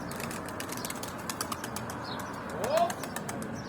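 Quick rhythmic wingbeats flutter close by as a bird takes flight in Antalya, with a faint chirp near the end over low background noise.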